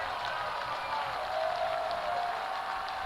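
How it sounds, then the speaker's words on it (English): Steady, distant roar of a high school football crowd in the stands at The Woodlands HS, rising on a big third down late in a game against College Park, with no voices standing out. "This Woodlands crowd is getting riled up now"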